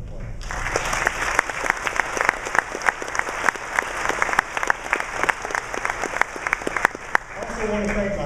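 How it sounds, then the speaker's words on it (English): A crowd claps steadily and loudly, with many overlapping sharp hand claps throughout. "I'd like you to give them a round of applause."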